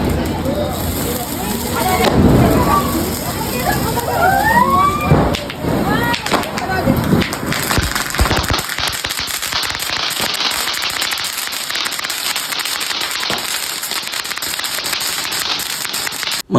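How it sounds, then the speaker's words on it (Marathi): Diwali firecrackers set off with family in Sangli, a string of sharp cracking bursts and popping over the first half, then a steady hiss of crackle and background noise, with voices of people nearby. "चला मला आता क्रॅकर आणलेलं क्रॅकर उडूया"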